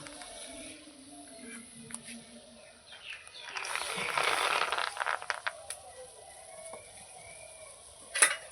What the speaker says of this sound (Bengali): জলটা আমার গরম হয়ে গেছে ফুটেও গেছে সোয়াবিনটা দিয়ে দেবো